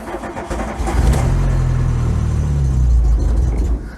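A VW Mk2 Scirocco with an 8-valve engine cranks and fires into a loud, rough, rumbling run that holds steady for several seconds before cutting off, close up with no talking.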